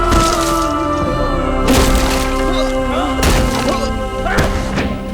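Blows and thuds land in a fight scene from a Hindi-dubbed film, with sharp whacks and cracks over music and shouting voices.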